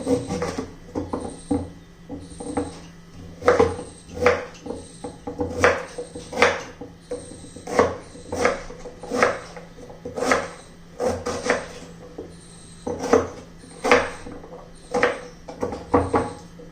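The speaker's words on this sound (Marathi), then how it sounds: "सर्व बीटाचे मी असे तुकडे करून घेते छोटे छोटे." A knife cuts peeled beetroot into small pieces on a board, a steady rhythm of crisp, close chops, roughly one or two a second, with no voices.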